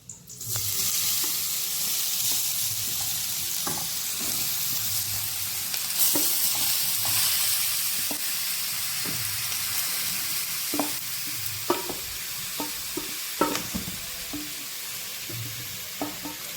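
Grated carrots sizzle and fry in a pan for carrot halwa, a steady soft hiss with occasional scraping clicks of stirring, fairly quiet and close, no voices.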